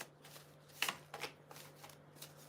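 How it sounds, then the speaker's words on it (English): Tarot cards are shuffled by hand in a few quick riffling bursts, close and fairly quiet, with no talking over them. "Let's give the card a good shuffle, huh?"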